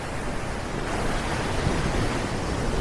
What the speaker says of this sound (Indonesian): Dari jauh, aku mendengar suara ombak menghempas pantai berdentum-dentum.